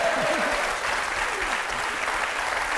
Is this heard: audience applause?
yes